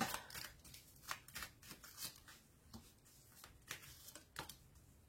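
Tarot cards shuffled by hand for a card reading, a quiet, close series of soft riffling and slapping bursts with no talking.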